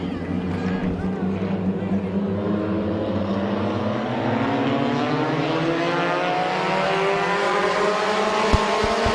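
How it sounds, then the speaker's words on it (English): Race cars roar off at the start of a heat race at Midvale Speedway, a loud layered engine drone rising in pitch as they accelerate, with an announcer talking over it. "So we're underway in heat race number 3"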